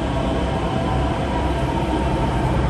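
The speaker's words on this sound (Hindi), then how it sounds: "आ गई भाई मेट्रो अपने" A Delhi metro train pulls into a station, a loud, steady rolling rumble of wheels and motors filling the whole stretch without any voices.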